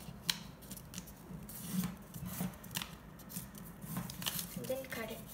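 Origami paper for a jumping frog is trimmed with scissors, a series of soft, close snips and paper rustles at an uneven pace, fairly quiet, with faint low background noise.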